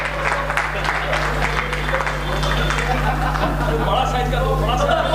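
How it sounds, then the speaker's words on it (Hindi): Audience applause greets a guest walking on stage at a comedy event, steady dense clapping with crowd noise, continuous through the stretch over a persistent low hum. "जोरदार तालियों से मूर्ख शिरोमणि का स्वागत करें हम लोग"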